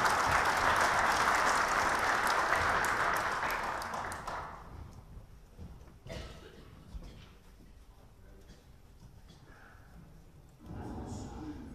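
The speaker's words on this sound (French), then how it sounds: "On peut vous applaudir aussi." Audience applause at a French government event on decarbonising industry, a dense broad wash for about four seconds that fades into quieter room sound, with a brief swell of clapping returning near the end.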